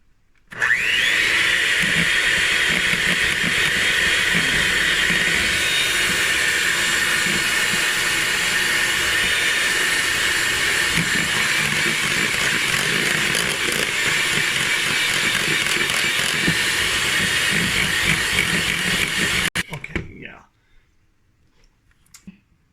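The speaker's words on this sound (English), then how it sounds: "I think I'll beat it a little bit more still." An electric mixer beats meringue toward stiff peaks in a loud, continuous close whir that runs steadily for about twenty seconds before switching off.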